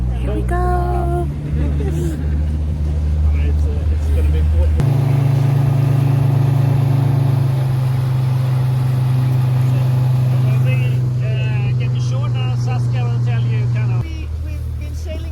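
A Zodiac inflatable boat's outboard motor running in Antarctica, a loud steady drone that surges partway through and holds, with wind and splashing around it and voices talking over the start.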